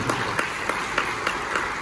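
An audience at a church pastor conference applauds, claps landing in a loose, regular rhythm, moderately loud and steady across the room.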